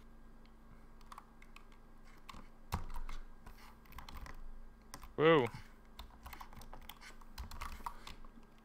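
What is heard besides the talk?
typing on a very old computer keyboard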